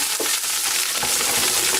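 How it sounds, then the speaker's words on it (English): Handful of coriander sizzling in a hot pan with frying spices for a lamb curry, a dense, steady hiss with faint stirring scrapes, close and alone. "Now we're going to throw in a handful of coriander."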